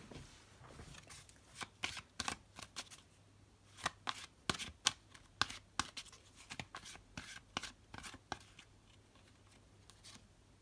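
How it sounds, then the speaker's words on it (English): Tarot cards being shuffled in quick riffling bursts, crisp and close, with short pauses between passes and no talking. "I've already shuffled the cards as well, but I'll just do a little bit more of that on camera"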